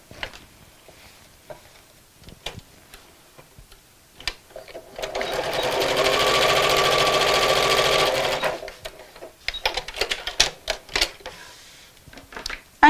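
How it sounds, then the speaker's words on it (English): A sewing machine runs in one steady burst of a few seconds, stitching straight across a seam on a fabric Christmas bag, framed by sparse clicks and handling taps before and after. "you sew straight across"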